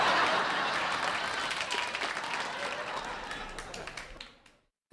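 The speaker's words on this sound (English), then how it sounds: "Round of applause for Beauty and the Beast." Comedy club audience applauding and clapping steadily, a dense close wash of claps that holds for about four seconds before stopping abruptly into silence.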